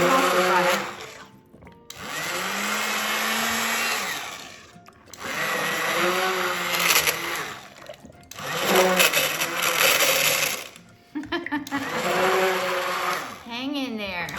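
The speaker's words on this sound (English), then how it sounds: "So I'm just gonna take my immersion blender." A cheap, worn-out immersion blender whirs in bursts as it emulsifies a cold process soap mixture, several loud, steady runs of motor drone separated by short pauses, with no talking.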